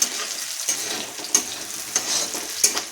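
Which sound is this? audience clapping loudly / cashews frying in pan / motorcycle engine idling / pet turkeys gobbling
cashews frying in pan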